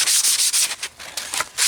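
100-grit sandpaper rubbed over a varnished wooden axe handle, a series of quick, loud, close back-and-forth rasping strokes in a steady rhythm, with a short softer pause midway.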